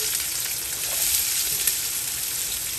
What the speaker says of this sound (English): Now that our ghee is nice and melt down, I'm going to go in with my onion.